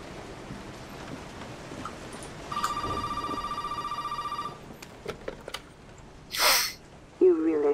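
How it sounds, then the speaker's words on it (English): A telephone rings in the Resident Evil 7 video game: one steady electronic ring burst lasting about two seconds, followed by scattered clicks and a short breathy gasp-like noise, with no talk. "That's how the phone triggers."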